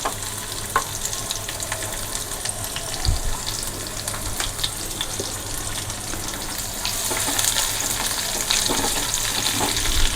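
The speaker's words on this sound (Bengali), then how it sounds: "এবার আমি দিয়ে দিচ্ছি রসুন কুচি আর কাঁচা লঙ্কা কুচি, তার সঙ্গে দিয়ে দিচ্ছি 3টে ছোটো এলাচ আর 4-5টা লবঙ্গ।" Chopped garlic, green chili, cardamom and cloves fry in hot oil in a pan, a steady close sizzle with occasional stirring and clinks, growing slightly louder toward the end, with no voices.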